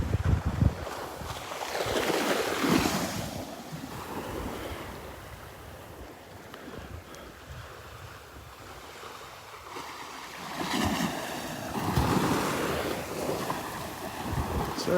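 Waves wash steadily onto the beach at Delnor-Wiggins, with heavy wind buffeting the microphone. The surf rises and falls in broad swells throughout, and no one speaks.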